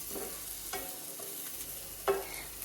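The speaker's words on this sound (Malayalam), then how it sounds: "ഞാൻ മുട്ട പൊരിക്കാൻ ഇട്ടിട്ടുണ്ടായിരുന്നു" An egg frying in a pan in a home kitchen, with soft scraping and stirring sounds, light sizzling underneath, and a sharper clink of utensil against the pan near the end.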